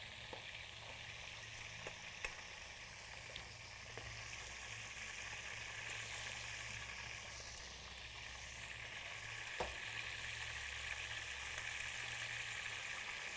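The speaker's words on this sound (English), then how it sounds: "Then we're going to add our corn to saute that." Corn kernels sauté in a pan with a steady, close sizzle that holds for the whole stretch. A few light clicks and stirring knocks break through it, and nobody speaks.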